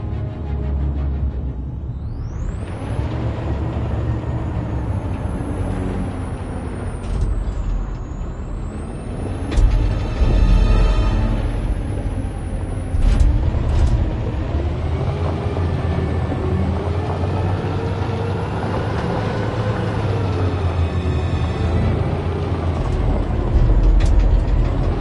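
A truck in a video game, its engine rumbling continuously with loud hisses and squeals of air brakes and clanking mechanical noises throughout, close and dense with no talk.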